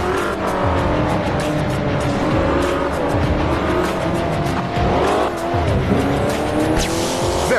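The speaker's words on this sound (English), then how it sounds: "Now test the weapon on the car driving a few meters ahead of you." Car driving in the video game Crash Time 5: Undercover, a continuous racing engine roar with repeated tire squeals and skids, loud and steady throughout.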